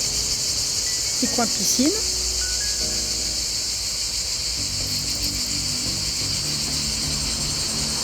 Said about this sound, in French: Je sais pas si vous entendez le chant des cigales.